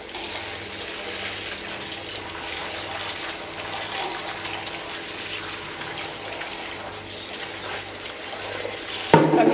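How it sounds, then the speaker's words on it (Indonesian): Kimchi cabbage being rinsed under a running tap, with water pouring steadily and hissing into the sink throughout, then a brief louder splash and clatter at the end. "sekarang kita akan bilas"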